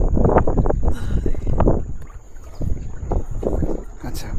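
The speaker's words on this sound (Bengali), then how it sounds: "ভাই আমার জন্য একটু নৌকাটা সাইডে নিয়ে আসলো।" A wooden boat in the Sundarbans mangrove forest is brought alongside a slippery bank, with close bumping, splashing and sloshing water knocks in uneven bursts, plus wind buffeting the microphone.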